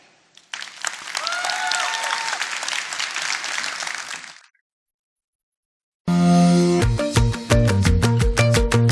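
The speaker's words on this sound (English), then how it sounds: "Give yourself a huge round of applause for being part of this community" A conference audience bursts into a loud, dense round of applause that sustains for a few seconds and cuts out, followed after a pause by loud, pulsing stage music with a strong beat.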